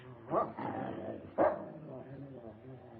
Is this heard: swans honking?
no